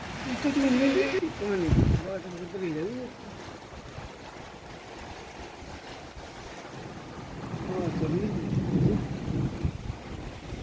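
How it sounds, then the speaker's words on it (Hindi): Strong gusting wind with light rain roaring and buffeting the microphone, surging and easing, with a voice briefly heard near the start. "बहुत तेज़ हवा और थोड़ी बारिश भी होती रही"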